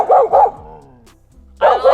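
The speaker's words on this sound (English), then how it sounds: "There's another stray dog up here." A stray dog on a hiking trail in the Albanian Alps, between Theth and Valbona, barks loudly and close by: two quick barks, a brief lull, then another pair of barks.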